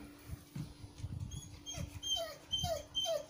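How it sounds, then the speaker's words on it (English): A big Rottweiler whimpers and yips faintly in short high whines, several in a row, over low rustling and handling noise. "She is a Rottweiler kind of dog."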